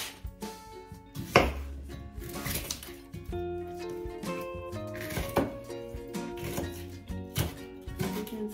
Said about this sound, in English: I'm gonna cut onion.